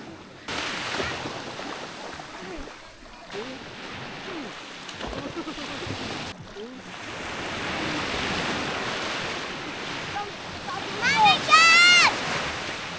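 Sea waves with somewhat strong surf washing ashore at Cabungahan White Beach on Cagbulauan Island, a continuous close wash with wind buffeting the microphone and people talking over it.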